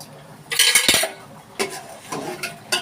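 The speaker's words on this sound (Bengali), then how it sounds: "তারপরে এই মাখা চালটাও হাঁড়িতে দিয়ে দিলাম" Soaked rice going into a pot of boiling water for a pulao, with a few sharp metallic clinks and scrapes of utensil against the pot among brief rustling pours.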